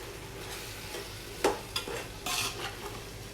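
A ladle stirs chicken biryani masala mixed with curd in a pot, giving a steady low sizzle broken by a few sharp scraping clicks and a brief louder stir.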